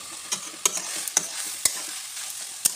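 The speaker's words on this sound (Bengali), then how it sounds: "এই যে এখন চাল দিয়ে দিয়েছি, এটা সব একটু ভাজবো" Rice stir-fried with ginger and chili in a pan: a steady, close sizzle broken by repeated spatula scrapes and taps, with no voices.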